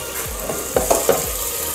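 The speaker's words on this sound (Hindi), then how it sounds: "इधर दूसरी साइड पे भी प्याज तकरीबन लाइट गोल्डन हो चुके हैं। अब इसमें टमाटर डालते हैं।" Chopped tomatoes go into onions frying in a pan until light golden, a close, steady sizzle broken by a few sharp spatula scrapes and clacks against the pot.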